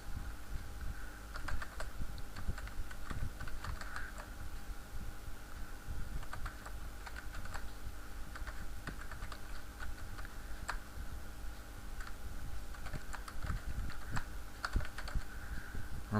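Quiet, steady typing on a computer keyboard, with rapid soft key clicks in an irregular rhythm over a low hum, no voices.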